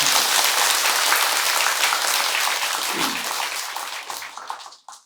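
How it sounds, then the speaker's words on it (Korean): Sustained applause from a congregation at a Buddhist dharma service in a temple hall, a dense steady clapping that carries for several seconds before thinning out and stopping at the end. "여기 박수 한번 쳐야 되는데."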